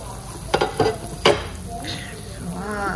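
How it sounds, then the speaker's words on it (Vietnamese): Seafood soup with shrimp chips and tapioca starch boils hard in a pot, giving a steady close bubbling and sizzling with a few sharp clinks or stirring knocks in the first half. "Rồi mình đã thấy nó sôi dữ lắm rồi nè."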